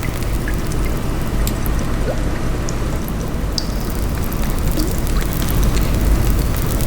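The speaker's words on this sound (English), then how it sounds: "The faint drip of water echoed through the tunnel" Water trickles and patters steadily inside a dark tunnel, a continuous wash of falling water with scattered individual drips, fairly loud and enveloping, with no voices.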